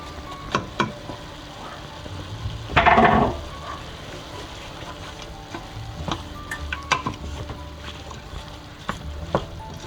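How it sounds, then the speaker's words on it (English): Onion sizzles and cooks down in a pan for turkey chili with bell pepper, a steady frying hiss with scattered utensil clicks and scrapes and one louder stirring burst partway through. "I'm going to let that onion cook down."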